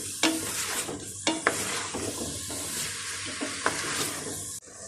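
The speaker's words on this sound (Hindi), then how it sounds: "कद्दू अच्छी तरह मैंने भून लिया।" Bottle gourd pieces stirred and fried in a pan, a dense sizzle broken by several sharp spatula scrapes against the metal, close and steady, no speech.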